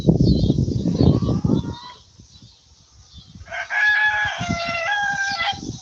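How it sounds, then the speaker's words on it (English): A rooster crows on a farm at an odd time of day: a loud, close cock-a-doodle-doo with several drawn-out harmonic notes, preceded by clucking and a brief quiet gap, no voices. "Rooster's crowing. It's the wrong time of day to crow."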